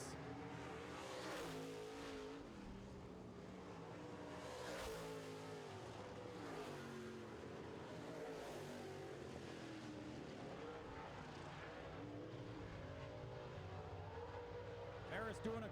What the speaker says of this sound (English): Here he is out of 4, 1 to go for Ferris.